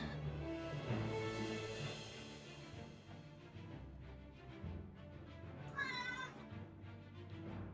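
A cat meows repeatedly during a tabletop role-playing game session, rising over steady background sound, with a short bright cry near the end.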